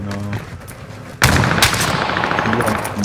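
Call of Duty Warzone Rebirth gunfire, a sudden loud burst of rapid automatic shots that keeps rattling on, with a brief shout from a player just before it.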